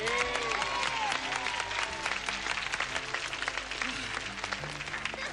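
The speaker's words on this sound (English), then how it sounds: "A big round of applause for our mums, please." A large audience applauds at a 1987 gaol show, dense sustained clapping filling the space steadily and loudly throughout, with no voices breaking through.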